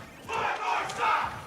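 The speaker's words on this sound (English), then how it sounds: "you might be hearing from the crowd a little bit" Faint, distant crowd roar drifting in from a nearby esports fighting-game finals at Midwest Battlegrounds, swelling twice in muffled waves with no talk over it.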